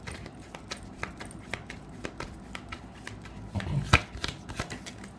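Tarot cards being shuffled by hand, a run of soft papery riffles and taps with one sharper snap near the middle, close and fairly quiet with no talking.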